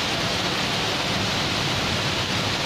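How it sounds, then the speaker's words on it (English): Torrential rain pouring down in a city, a dense, constant roar of broadband hiss that stays steady and loud throughout, with no voices. "What a delightful rain, what torrential rain."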